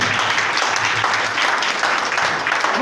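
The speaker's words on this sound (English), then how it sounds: "give me a clap of hands" A church congregation claps their hands during a sermon in a loud, dense, sustained round of applause from many people at close range, steady from start to finish.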